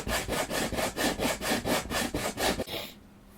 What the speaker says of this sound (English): Now I've got sanding this crossing point to make sure it's all level and smooth.